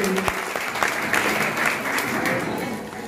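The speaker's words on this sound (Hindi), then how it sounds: "जोरदार तालियां बजाएं एक बार दिव्या चौधरी के लिए" An audience at a Women's Day event in India breaks into sustained applause for an honoured officer, a dense, even roar of clapping that holds steady and fades slightly at the end, with a little murmured speech mixed in.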